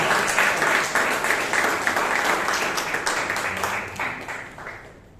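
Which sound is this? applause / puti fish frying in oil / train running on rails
applause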